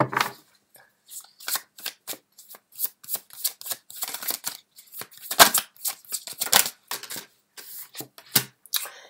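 Tarot cards being picked up and handled, a run of close, crisp flicks, slides and shuffling snaps with small gaps between them.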